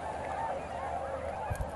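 A dense chorus of goose-like honking from water birds fills the Meriç Delta wetland, faint and distant throughout with no voices.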